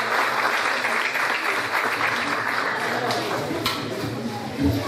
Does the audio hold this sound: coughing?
no